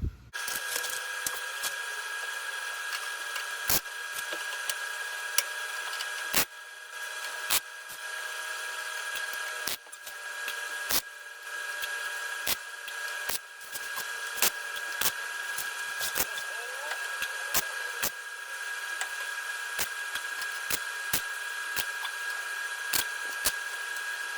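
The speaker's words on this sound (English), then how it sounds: "Now we'll start tacking it in." Tack welding a patch panel onto a rusted 1970 International Scout body gives a continuous buzzing crackle close by, broken by sharp irregular pops and snaps as each tack is laid.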